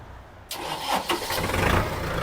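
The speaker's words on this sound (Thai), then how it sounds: "เครื่องยนต์สตาร์ทติดง่ายนะครับ" A Kubota MU4902 tractor's diesel engine cranks and catches after half a second of quiet, then settles into a steady close running rumble.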